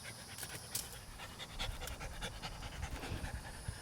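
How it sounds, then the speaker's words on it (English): A puppy pants quickly and rhythmically, close by and steady throughout, with faint soft noises behind it. "So we're still getting the puppy background noise."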